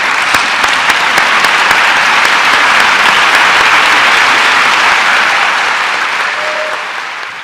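An audience applauds Teacher of the Year finalists at a Fayette County Public Schools awards ceremony, dense sustained clapping filling the room before tapering off at the end.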